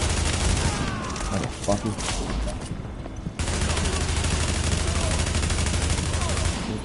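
Enemy gunfire in The Division video game, sustained rapid shots and bursts rattling continuously with a brief lull midway, while a player swears over it.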